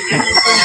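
A single chicken gives a short, loud, close cluck-like call.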